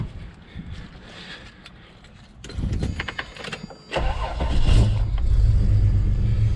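A 1995 Toyota 4Runner with its EGR system removed is cranked by the starter, catches, and then revs up into a loud, steady idle close by.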